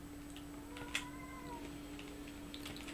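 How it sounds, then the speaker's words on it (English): A young pet cat, just under a year old, gives a single drawn-out meow at close range in a quiet room with a steady electrical hum behind it, followed by faint small clicks. "My cat."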